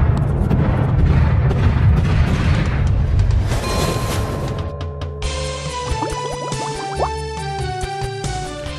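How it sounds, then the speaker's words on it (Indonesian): A bomb explosion from the film Dunkirk, a heavy rolling boom and rumble that fades out, followed by scattered ringing debris and tinkling impacts with tonal film score underneath. "Puncak aksinya adalah nanti ada ledakan bom."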